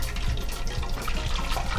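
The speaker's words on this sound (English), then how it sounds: "That sound is the moisture, the water evaporating." Food frying in hot oil, with moisture sizzling off it as the water evaporates. The crackle is steady and close, a dense hiss with faint pops that runs on without a break.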